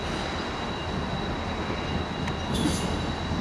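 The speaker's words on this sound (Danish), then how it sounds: "Der kører S Tog." A Copenhagen S-train rolls past with a continuous rumbling rush of wheels on rails, moderately loud and close, with a brief high squeal near the end and no talking.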